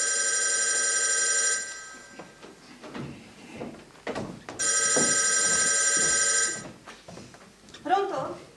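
A telephone bell rings in two long electric trills separated by a pause, loud and close, with faint rustling and knocks between the rings.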